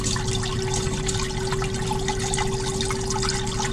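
Water running steadily through a newly cleared blocked drain, a continuous close trickling and gurgling flow with faint dripping over a low hum.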